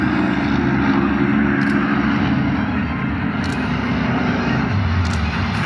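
Propeller aerobatic planes of a display team roar past in tight formation at an air show, a loud continuous engine drone that swells and shifts slightly as they pass, with no voices.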